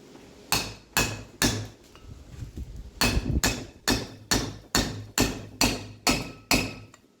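A driver tool is hammered onto a 1991 third-generation Camaro brake part during a brake service, about fourteen sharp, ringing metallic blows in a steady rhythm, close up, with the tone climbing as the part seats.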